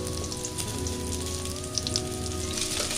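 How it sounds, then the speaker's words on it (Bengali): An egg fries in oil in a pan with onion and garlic, a steady close-up spattering sizzle like light rain, a few sharper pops, and no one talking. "ডিমটা দিয়ে একটু ভেজে নিলাম।"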